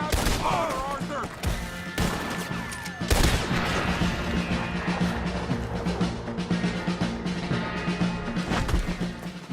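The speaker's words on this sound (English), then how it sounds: "Try to flank them, Arthur! We'll shoot you some space!" Dense shootout gunfire from Red Dead Redemption 2, with many rifle shots cracking over one another and a steady battle roar running throughout, near and far, with occasional shouted voices underneath.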